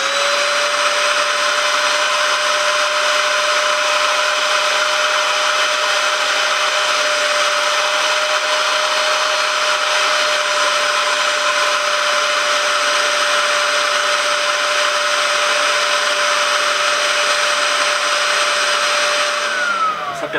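Steady, loud whine of a wet vacuum extractor cleaning the fabric seats of a Fiat 500, running continuously at close range with a constant high tone and no voices.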